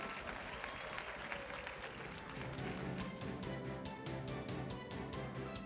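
Large crowd applauding in the video game Indivisible, a steady dense clatter of many hands clapping that swells slightly and holds over background music.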